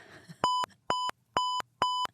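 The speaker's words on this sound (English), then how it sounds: "And then they beep, beep, beep." An electronic beep sounds four times in a steady, evenly spaced rhythm, each tone clean and sustained, clear and alone with no talking, like a checkout scanner.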